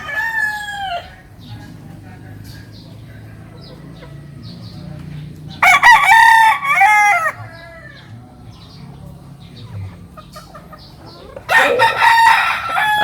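Chickens on a farm cluck and call close by, with two loud bursts of crowing-like squawks standing out over a low background murmur, and no talk.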